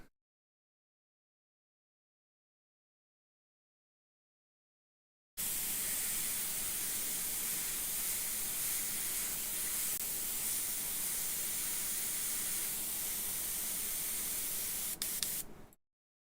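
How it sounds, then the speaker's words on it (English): After several seconds of silence, an airbrush starts spraying air to dry paint, giving a steady, close hiss that holds evenly for about ten seconds before it cuts off. "you'll probably see me stop and just dry it off with the airbrush quite a bit"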